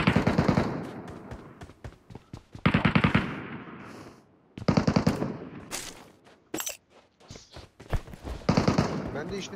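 Loud bursts of automatic gunfire in Metro Royale, several rapid volleys separated by brief pauses, close and sharp, with a voice speaking between shots.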